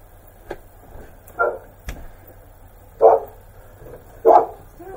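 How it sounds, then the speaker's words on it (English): Dogs bark at a house door, several sharp barks spaced a second or so apart, moderately close over a quiet background. "when your dogs are barking like that"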